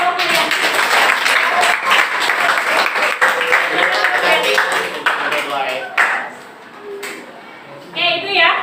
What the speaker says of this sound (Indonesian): Kasih tepuk tangan dong buat kelompok kalian.